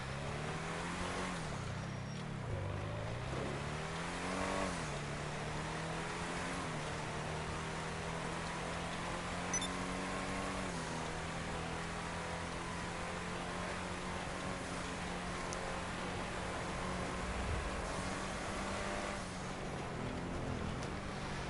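An SUV in GTA 5 Online accelerates at full speed, its engine holding a steady, loud drone with rising pitch sweeps as it shifts through gears, running continuously with no talk.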